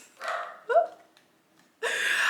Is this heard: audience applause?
no